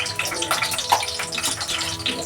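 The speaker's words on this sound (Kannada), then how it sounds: "ನೋಡಿ, ಇವೆಲ್ಲ ಫ್ರೈ ಆಗಬೇಕು." Peanuts and cumin seeds frying in hot oil for lemon chitranna, giving a continuous close crackling sizzle with scattered pops throughout.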